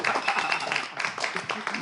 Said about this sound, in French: Vous allez battre les mains de la même manière pour Miss Tilalo